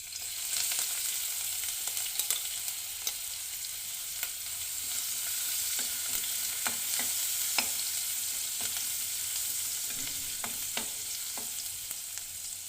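Ginger and garlic pieces frying in hot oil in a home kitchen, a steady soft sizzle with scattered clicks and scraping stir strokes against the pan, no voices.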